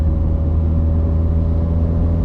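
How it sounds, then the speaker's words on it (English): Interior road noise of a moving Mazda Miata, a loud, steady low drone of engine hum and tyre rumble that continues without change. "We're driving in our car."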